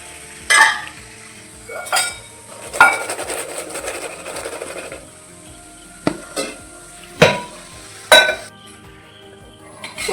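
Tapioca pieces frying in a pan give a low background sizzle broken by sharp, irregular scrapes and clatters of a utensil against the pan, about half a dozen distinct knocks close by, with no talking.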